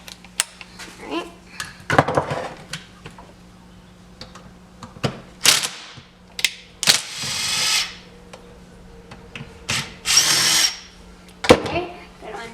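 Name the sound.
screw gun removing screws from an Echo HC 1500 carburetor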